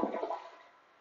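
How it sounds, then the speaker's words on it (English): A toilet is flushed in a bathroom, a loud whooshing rush of water that starts strongly and then fades off over about a second, heard alone with no talking. "I'm also going to go ahead and flush it so you can see the water line when it goes down."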